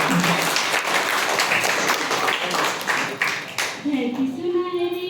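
Applause from an audience at a school Independence Day celebration, steady dense clapping under an announcer's voice that eases as a girl begins to sing near the end.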